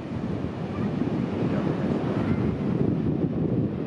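Surf rolls onto a Gulf of Mexico beach at Boca Chica, Texas. The low, continuous wash of waves mixes with wind buffeting the microphone, steady and fairly loud, with no talk.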